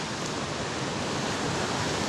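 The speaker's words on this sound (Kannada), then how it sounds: "ಒಂದು ಚಾನಲ್ ನೀರು ಎಷ್ಟು ಫೋರ್ಸಾಗಿ ಹೋಯ್ತಾ ಇದೆ ಅಂತ ನೋಡಿ" Water rushes forcefully through a canal channel of the Bagur-Navile tunnel, a steady, dense roar that holds even and continuous throughout.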